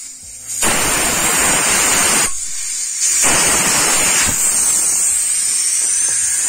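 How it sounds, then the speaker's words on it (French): Air rushes out of a VW Polo tyre valve with the core removed as the wheel deflates, a loud continuous hiss that dips briefly midway, then resumes strongly and tails off slightly. "comme ça la roue elle se dégonfle"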